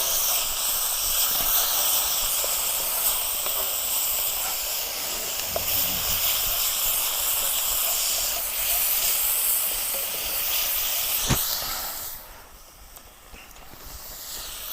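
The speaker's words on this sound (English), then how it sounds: "We'll just fry that off for a bit." Chilli, ginger and garlic fry in a pan for a Nepalese chicken curry, a loud, continuous hiss and sizzle that holds steady, then drops away abruptly near the end.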